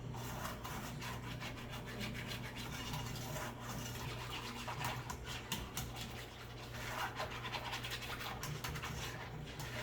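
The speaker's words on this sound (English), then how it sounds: "Slowly stirring in some milk here." Milk is stirred slowly into egg yolks and a whole egg for homemade banana pudding, giving a faint, continuous scraping and rubbing of a utensil against the bowl with no talking.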